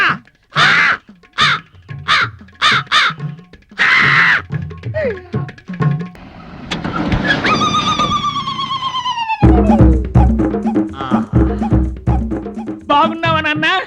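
A voice imitates a crow with a rapid series of loud, harsh caws, followed by drawn-out wailing vocal sounds.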